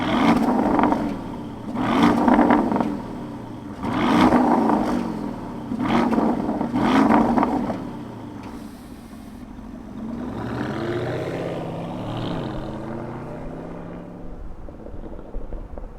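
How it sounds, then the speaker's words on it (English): An Arctic Gray 2024 Porsche Cayenne S revs hard, with five loud, evenly spaced throttle blips in a row. A lower, steadier engine drone with a wavering pitch follows. "let's fire this thing up and hear what kind of Porsche it sounds like"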